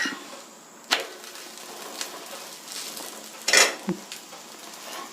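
An adai dosa sizzling softly on a pan after being flipped, a faint steady frying hiss broken by a few sharp spatula clicks and scrapes, close up with no talking.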